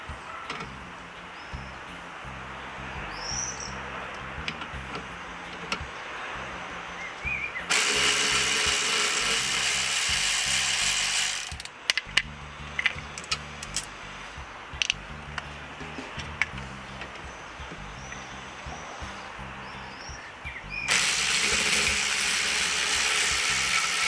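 An impact gun spins off the rear brake caliper bolts on an Alfa Romeo MiTo. Two loud, sustained rattling bursts of about four seconds each sit between quieter stretches of workshop clatter.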